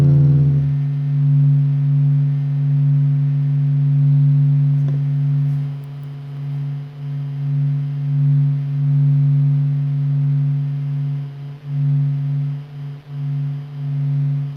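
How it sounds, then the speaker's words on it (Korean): Recorded sound of the Sun from space: a steady, eerie hum of sustained low tones with faint overtones, slowly swelling and wavering in loudness for the whole stretch, with no voices. "우주의 소리 태양."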